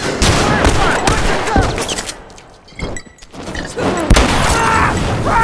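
Gunfire in The Last of Us Remastered video game: loud, dense bursts of rapid shots and booms in a chaotic firefight, with a brief lull midway before the volley resumes, and shouting voices mixed in.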